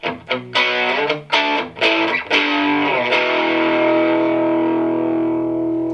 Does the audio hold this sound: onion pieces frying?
no